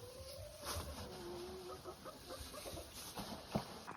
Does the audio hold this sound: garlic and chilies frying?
no